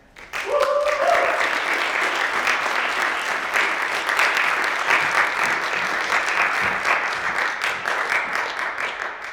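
An audience applauds as a speaker is welcomed onto the stage: steady, dense clapping from a large crowd that starts abruptly and holds at full strength for the whole stretch, easing only slightly at the very end.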